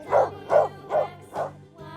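A dog barks four times in a steady, evenly spaced rhythm, close and fairly loud, followed by a softer whimpering yip.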